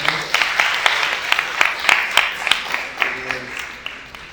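Audience applause at a lecture on sleep and breathing, steady mid-sized clapping with distinct individual claps standing out, fading slightly toward the end with a voice faintly present.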